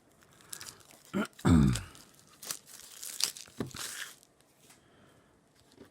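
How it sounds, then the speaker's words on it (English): Packaged Marvel United game cards being torn open, with a sharp ripping burst followed by scattered crinkling and crunching of wrapper, close and fairly quiet. "Oh, come on, cards, open."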